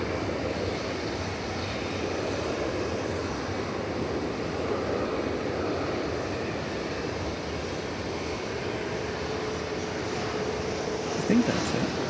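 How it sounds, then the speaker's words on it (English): An American Airlines Airbus A319 departs DFW Airport, its jet engines producing a steady broad roar that holds for the whole stretch, moderately distant, with someone speaking over it. "We have an Airbus A319 making its way to Lubbock, Texas."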